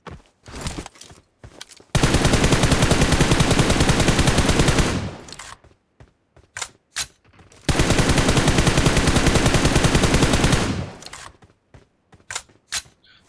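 Automatic gunfire in PUBG Mobile, two long, loud sustained bursts of rapid shots separated by scattered single shots and footsteps.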